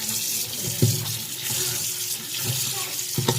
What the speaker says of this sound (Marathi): आता धुवून घ्यायचा व्यवस्थित, चोळून धुवायचा.